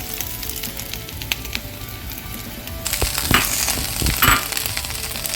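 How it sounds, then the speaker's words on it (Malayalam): Moringa leaves drop into a hot pan of sautéed ingredients. A steady frying sizzle jumps to a louder, brighter hiss when the leaves hit the pan, with a few clinks and scrapes. "ഇനി നമുക്ക് ഇതിലേക്ക് മുരിങ്ങയില ഇട്ട് കൊടുക്കാം."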